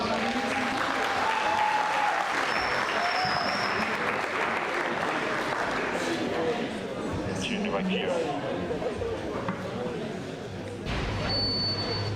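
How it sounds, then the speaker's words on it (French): Audience applause after a conference-debate talk on information manipulation, a dense, steady wash of clapping from a full room that continues for about twelve seconds, with voices murmuring and talking underneath. "on peut applaudir s'il vous plaît"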